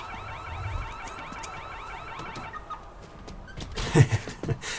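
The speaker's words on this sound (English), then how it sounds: "Love the car alarm sound." A video game car alarm cycles through its rising, warbling electronic tones, followed by a few louder thumps and clatter near the end.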